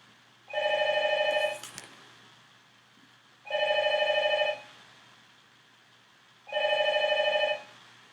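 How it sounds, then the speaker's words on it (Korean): A telephone rings with an incoming call, three evenly spaced bursts of electronic bell ringing, each about a second long, clear and close in an otherwise quiet room. "계속 전화가 걸려오고 있네요."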